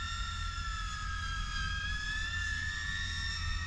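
A Catalyst Machineworks Whoopmaster 4 quadcopter drone in flight gives off a constant high, whining propeller drone with steady layered tones over a low rumble. It is loud and close and holds without a break.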